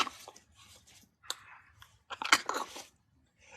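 Close, loud crunching and chewing of a spoonful of coffee, several bursts of crisp bites separated by short pauses, heard alone with no talk.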